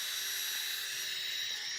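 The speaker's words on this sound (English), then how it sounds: "I'm not drilling into anything important." A power drill whirs steadily while house shutters are put up on a farm, a continuous high-pitched whine heard at moderate distance with no talk over it.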